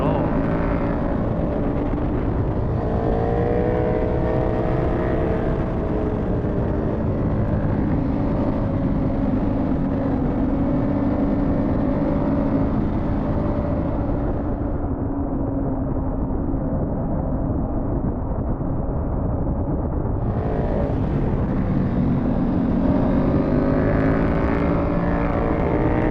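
A KTM 1290 Super Duke GT motorcycle ridden hard in sport mode, its engine roaring loud and steady close to the mic with pitch shifts as it revs, a brief drop in the upper range midway, then full roar again.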